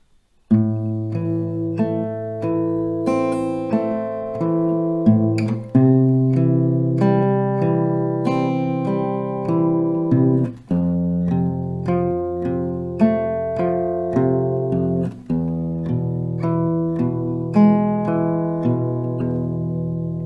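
A slow acoustic guitar melody, picked note by note over sustained strings, close and clear, playing alone without talk for about twenty seconds.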